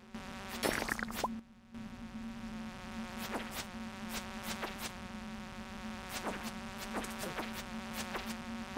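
Flies drone steadily inside a cave in the video game Stardew Valley, a constant insect buzz with a low game tone underneath and repeated sharp hits and swipes breaking in at intervals.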